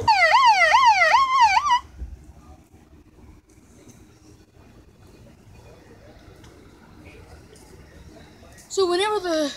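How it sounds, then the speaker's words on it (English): A hand-cranked DE13 siren set to police siren mode wails in rapid rising and falling sweeps. There are two loud bursts at the start and end, with a quieter stretch of background noise between them. "I have it set on siren mode and I crank it to make this police siren do it."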